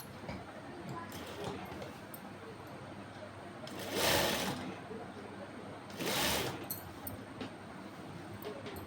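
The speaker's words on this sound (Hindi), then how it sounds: "प्रॉपर पॉइंट पे रख के और सिलाई करनी है" A sewing machine stitches a sharara pant in two loud, whirring bursts separated by a short pause, over a steady room-noise bed.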